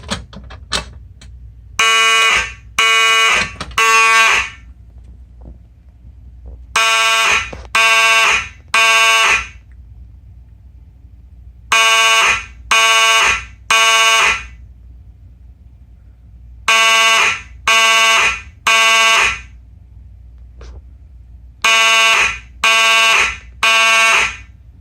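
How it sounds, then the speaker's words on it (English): A building fire alarm system, set off from a pull station, blares loudly in repeating groups of three long horn blasts separated by short silent pauses, with no talking. "let's pull fire alarm."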